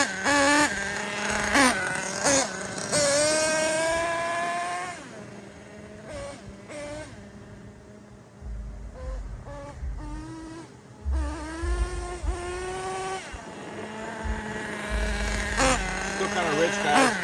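Ofna Titan .25 nitro RC monster truck engine, running rich, whines and revs up and down in a high buzzing tone, close and loud, with a voice speaking over parts of it.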